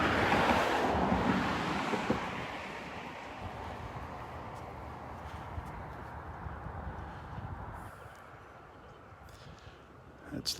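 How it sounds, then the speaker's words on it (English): Wind gusting across an open beach in North Naples, Florida, with surf rolling behind it; a loud, broad rush that is strongest at the start and eases gradually, with no talking. "It's probably going to be noisy out on the beach with the wind."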